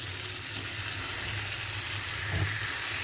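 Taro leaves (village kochu shak) fry with hilsa fish in a pan, giving a steady, close sizzling hiss that runs unbroken throughout with no talking.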